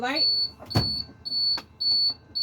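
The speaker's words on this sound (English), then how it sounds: "low air warning light and buzzer came on at 70" A low air pressure warning buzzer sounds a steady high-pitched electronic tone in repeated pulses, briefly broken by short gaps and a low thump.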